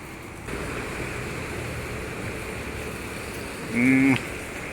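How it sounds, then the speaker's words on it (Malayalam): Chaliyar river floodwater rushes and strikes against a bridge, giving a steady, broad roar that holds through the clip, with a brief louder burst near the end. "വെള്ളം ആ ഭാഗത്തു നിന്ന് വന്ന് അടിക്കുന്നത് കേട്ടോ"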